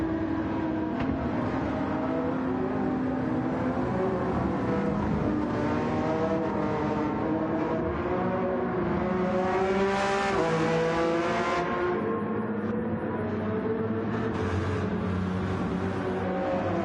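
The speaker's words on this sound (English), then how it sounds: "This is where the car is losing grip." A Porsche in Gran Turismo 7 losing grip through a corner: a steady, close engine drone with rising and falling pitch and a continuous tire squeal, with no talk over it.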